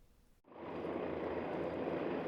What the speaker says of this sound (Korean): 전체 길이 15m에 달하는 헬기가 하늘로 떠올랐습니다